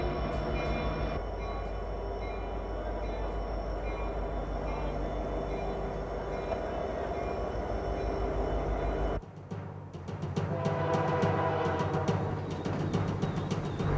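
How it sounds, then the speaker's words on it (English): Diesel freight locomotives hauling a massive freight train over the Rockies rumble loudly and steadily with a deep engine drone and rolling rail noise, continuing with a sharper clattering texture in the final seconds. "hauling a massive freight train over the Rockies requires 3 locomotives"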